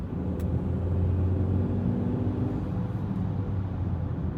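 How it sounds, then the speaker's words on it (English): Low, rumbling petrol engine of a 2024 Forthing T5 EVO accelerating, heard from inside the cabin, steady and droning with a faint rise, under slight road and wind noise. "you can hear the petrol engine nicely, so petrol heads will love this car"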